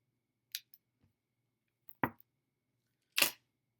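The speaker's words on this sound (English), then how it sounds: "I'm just gonna cut it off my line" Three short, crisp snips sound up close in a quiet space as fishing line is cut away from an old Arky head jig, each a sharp click separated by silence.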